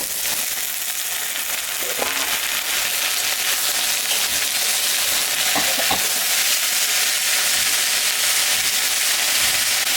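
Taro stems, potato and pointed gourd fry in a hot pan with a loud, continuous sizzle, with a few brief scraping stirs along the way and no talking.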